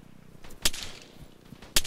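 Two sharp, separate gunshots in an Arma military simulation match, one early and one near the end, with faint background noise between them.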